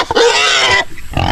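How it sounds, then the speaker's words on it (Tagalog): A loud, close pig grunt and squeal, harsh and rasping, lasting about a second before a short rougher snort. "Mga baboy kasi gutumin."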